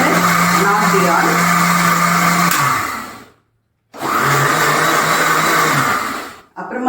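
A mixer grinder churns cream into homemade butter, whirring loudly for about three seconds, cutting out, then running again for a few more seconds before stopping and briefly restarting.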